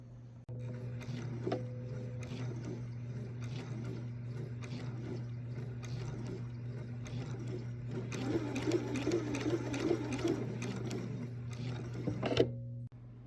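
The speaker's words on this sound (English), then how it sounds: "Now that I've sewn around the line for my circles on all of my quilt sandwiches" A sewing machine runs steadily while stitching circle seams through a pinned quilt sandwich, its motor whirring with a rapid mechanical rhythm, close and continuous with a busier stretch near the end before stopping.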